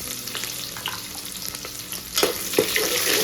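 Chopped onion browning in hot oil with whole spices and crushed garlic for a one-pot mixed vegetable masala rice, giving a steady close sizzle with a couple of louder crackling bursts toward the end.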